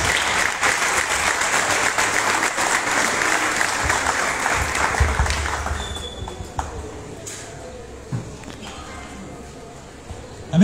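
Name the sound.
audience applause welcoming a speaker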